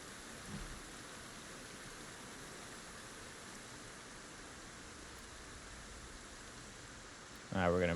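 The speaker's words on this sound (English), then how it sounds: "Let me see if I can turn the rain down." Rain falling steadily in the survival game Project Zomboid, a constant even hiss with faint low rumbles, and a brief burst of speech near the end.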